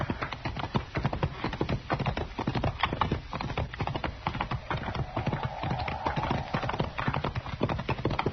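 Horses ridden over open ground clop along in a steady, overlapping rhythm of hoofbeats, fairly close and continuous, with a brief wavering tone in the middle and no talk.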